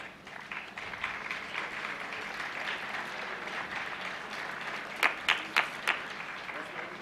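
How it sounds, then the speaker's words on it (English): Conference attendees give a sustained round of applause for an honoured speaker at a felicitation. The dense clapping from a crowd holds steady, with a few loud, sharp claps near the microphone toward the end. "Can we have a big round of applause for Dr. Bhushan Patwardhan, please?"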